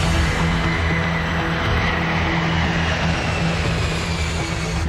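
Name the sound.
KLM airliner engines accelerating down the runway for takeoff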